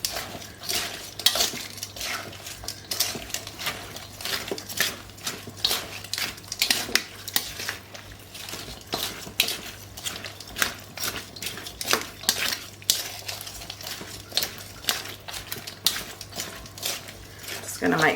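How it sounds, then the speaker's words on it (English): Tongs clattering and scraping in a bowl while tossing a Depression-era salad with dressing, rapid irregular clinks and rustles continuing throughout, close up, with a voice talking over them. "Get a pair of tongs and mix this thoroughly."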